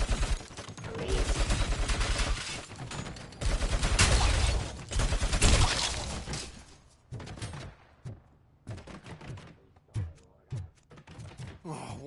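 Enemy gunfire in the RoboCop video game, rapid dense bursts of shots in the first half, thinning into scattered individual bangs and thuds toward the end, with no talking.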